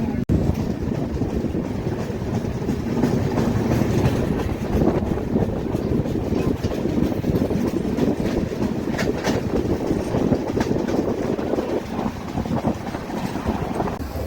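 The Swarnajayanthi superfast train runs at speed, heard from inside a general coach as a steady, dense roar of wheels and rattling carriages with wind buffeting the microphone, no voices.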